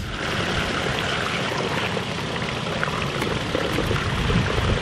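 Water pours from a garden hose into cracks in the ground, a steady, loud rushing splash that holds unbroken throughout with no voices.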